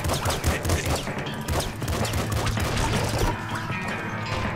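Rapid video game explosions and gunfire in Nuclear Throne, a loud, dense barrage of blasts and crashes rattling continuously, easing slightly near the end.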